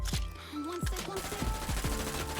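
The Harpy gun firing in the Hyper Scape video game: rapid bursts of repeated shots with quick whooping electronic pitch sweeps, moderately loud and steady across the clip.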